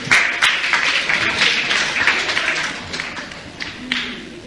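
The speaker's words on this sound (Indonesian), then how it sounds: "tepuk tangan dulu" Church audience applause at a Sunday service, a burst of many hands clapping that starts strong with a few sharp claps and gradually thins and fades over several seconds.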